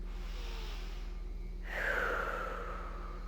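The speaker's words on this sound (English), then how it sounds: "Close the eyes and take a breath." A deep breath drawn in with closed eyes while standing tall during a balance exercise, heard as a single soft, airy inhale swelling midway through a quiet pause.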